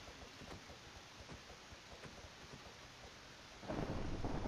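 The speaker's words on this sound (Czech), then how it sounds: "A venku je bouřka." A video game thunderstorm plays faintly, a steady hiss of rain with scattered low rumbles, swelling into a louder roll of thunder near the end.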